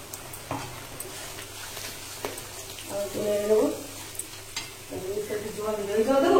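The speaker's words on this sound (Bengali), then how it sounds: "পেঁয়াজ বাটাটা একটু ভেজে নেব" Onion paste fries in a pan for a chicken offal curry, with soft sizzling and a few scraping stirs that grow louder toward the end.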